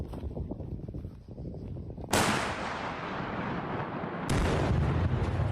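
Artillery fire aimed at Russian armored personnel carriers, heavy booms and roaring blasts that come in loud sustained bursts, each one suddenly swelling into a dense continuous rumble.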